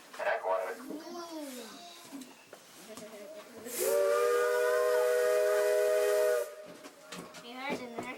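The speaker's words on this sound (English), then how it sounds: "We're going to blow our whistle on the train, on the engine up here, and we'll see if we can get an echo out of it." A steam locomotive whistle on the Cripple Creek train sounds one long, loud sustained blast of several hours-long-feeling seconds with steady hiss, framed by people talking before and after, in an open mountain setting where an echo is sought.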